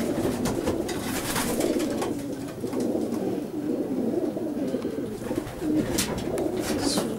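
Pigeons in a racing loft, including a reduced opal hen, cooing in low continuous rolling calls close by, with a few brief higher sounds near the end and no talking.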